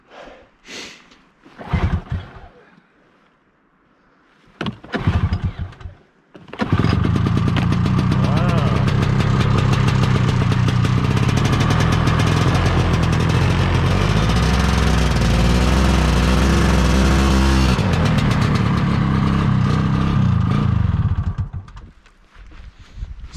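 Old snowmobile engine, running on stale fuel, catches after a few sputtering attempts and then roars steadily and loudly for about fifteen seconds before cutting out, with people talking briefly around the start.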